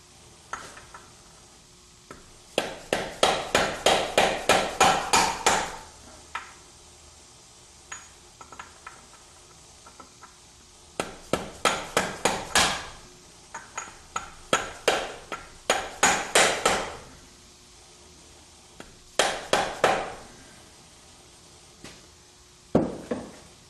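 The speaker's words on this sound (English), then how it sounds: "Dead blow hammer." Bursts of rapid metallic tapping from a dead blow hammer driving a seal into a differential, each a quick run of about eight to ten strikes, repeat several times with short pauses between them, close and crisp.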